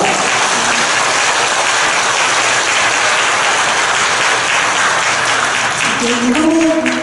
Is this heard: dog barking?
no